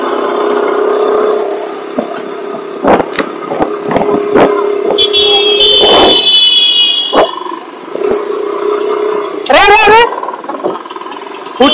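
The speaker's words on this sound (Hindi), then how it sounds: "तो बस भाई का बाइक आ रहा है" A faulty KTM Duke motorcycle comes closer, its mid-pitched engine droning steadily under people talking, with a brief rising whine near the end.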